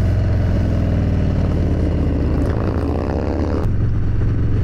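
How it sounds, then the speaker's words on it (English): A Harley-Davidson motorcycle engine drones loud and steady while riding, a constant deep rumble mixed with rushing wind noise, heard close up with no voices. "If anything, you guys can hear the engine better."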